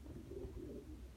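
Pigeons coo softly in a low, continuous murmur, faint and close, with no voices over them.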